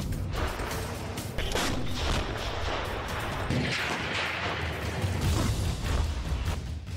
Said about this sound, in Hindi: गोले और फायर की आवाजों के बीच